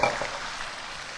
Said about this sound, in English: So I'm going to take my tomatoes, and this is probably going to, sizzle up.